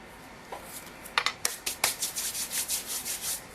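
Filler is packed down into a small dollhouse plant pot with the top of a pencil, making close, soft rubbing and scraping strokes in a quick series of short bursts with no talking.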